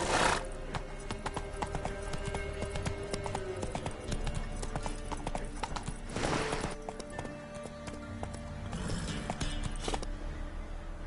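A horse gallops in The Witcher 3: Wild Hunt, its hooves beating a rapid, steady clip-clop rhythm throughout, with game sound underneath.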